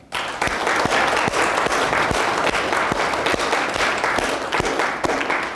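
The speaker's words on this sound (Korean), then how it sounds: "우리 모두 다 같이 힘찬 박수로 맞이하겠습니다." Vigorous audience applause at a company New Year opening ceremony, a full, steady roar of many hands clapping with a few distinct sharper claps standing out, sustained for over five seconds and fairly close.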